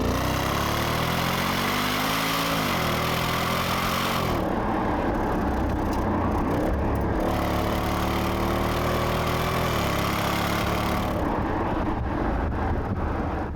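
Supercharged Jaguar XJR engine with a valved exhaust, loud and close, revving up and down through several rising and falling sweeps, with wind buffeting at times and no talk.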